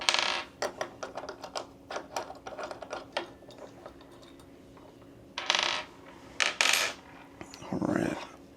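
Small metal pins pulled from a SmallRig NATO top handle, a run of quick light metallic clicks and ticks close by, then a few louder scraping rattles and a short handling clatter near the end.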